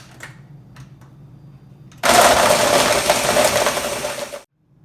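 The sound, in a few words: Ninja blender blending ice cream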